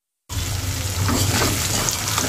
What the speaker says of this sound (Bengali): এই যে পাঙ্গাস মাছ ভাজি করে নিচ্ছি পেঁয়াজ আর মরিচ দিয়ে